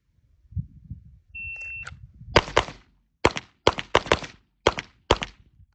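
Eight handgun shots fired at targets during a transition drill ring out as sharp, loud cracks, first two close together, then spaced pairs and singles, with a timer beep and soft shuffling before them.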